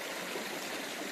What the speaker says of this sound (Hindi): और थावर नदी का मुहाना,